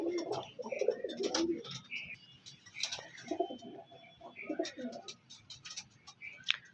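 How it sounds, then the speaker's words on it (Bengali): A teddy pigeon at a pigeon sale coos in soft, rolling bursts close by, joined by other birds chirping and ticking sounds, with someone speaking quietly between calls. "এই একটা টেডি পায়রা।"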